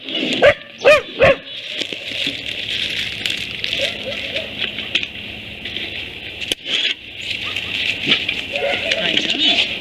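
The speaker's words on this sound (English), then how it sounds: "Oh, they're dogs." Dogs at a ranch bark in a few sharp close yips, then whimper and yap intermittently as people talk nearby, with scattered thumps and movement throughout.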